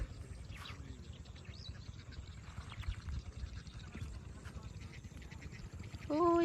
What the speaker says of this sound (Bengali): দেখেন কত হাঁস এখানে।